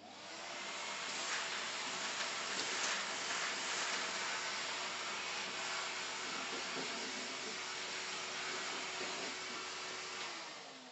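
A shop vac pulls wood chippings, shavings and very fine sawdust through a compact cyclone dust collector, giving a loud, steady whooshing roar that holds for about ten seconds, then cuts off.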